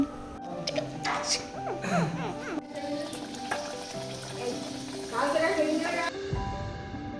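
Luchi, a puffed flatbread, frying in hot oil gives a steady sizzle that runs under overlapping voices chatting nearby.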